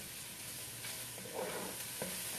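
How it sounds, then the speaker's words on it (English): A spoon presses and stirs garlic cloves in a pot of white chicken chili over a soft continuous sizzle, with faint scraping and a couple of light taps, quiet and close. "just break the cloves up a little bit with the back of your spoon"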